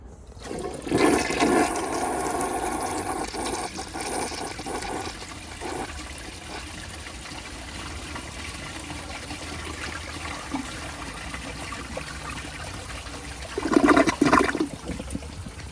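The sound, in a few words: toilet flushing during a flush test, 1983 Gerber Mt Vernon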